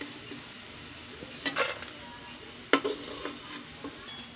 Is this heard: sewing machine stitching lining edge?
no